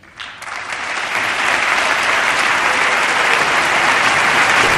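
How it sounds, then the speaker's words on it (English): Loud, sustained applause from members of the House rising to their feet during a presidential speech, swelling quickly from a quieter start into a full, even roar of clapping. "the whole House jumped to its feet and applauded"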